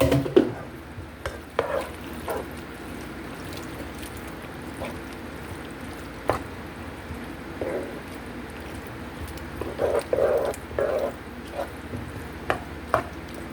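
Tomatoes fry in a pot for tortellini soup, a soft steady sizzle running underneath while a utensil stirs and scrapes, giving irregular knocks and clatters against the pot, close and fairly loud, with no talking.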